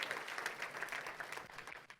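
A church congregation applauds during a worship service, with soft, steady clapping that sounds distant and faint throughout before it briefly tails off.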